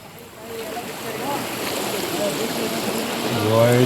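A swollen, rushing stream in Chikkamagaluru sends up a steady, close roar of churning water that grows slightly louder toward the end, with voices briefly audible over it.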